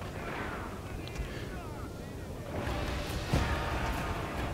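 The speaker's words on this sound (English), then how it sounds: "My bows are still firing in, my matchlocks are still firing in." Matchlock gunfire and bow volleys in a Shogun 2 Total War battle crackle and rumble as a distant, dense barrage under wind-like battle ambience, with a few sharper reports near the end while someone talks over it.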